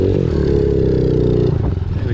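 A pit bike motorcycle engine runs steadily while being ridden at an abandoned sandy DIY spot, a loud, close, continuous drone with slight rises in pitch and no talk over it.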